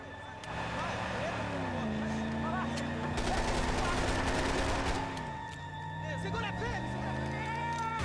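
Gunfire in Max Payne 3, heard as repeated sharp shots and a rattling burst mixed with engine-like droning and ongoing speech.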